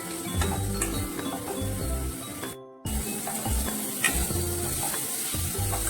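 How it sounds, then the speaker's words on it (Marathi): Garlic and curry leaves sizzling in a hot pan as they are mixed, a steady bright crackle with bursts of scraping, briefly cut off midway, then resuming. "तुम्हाला यामध्ये लसूण आणि कढीपत्ता टाकून त्याला मिक्स करून घ्यायचं आहे"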